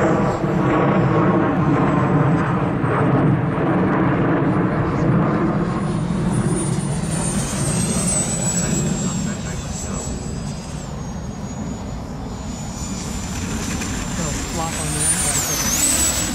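A Freewing Vulcan RC model jet comes in to land with gear down, its loud steady whine and rushing roar filling the scene, a high engine tone drifting in pitch as it passes, with voices talking nearby.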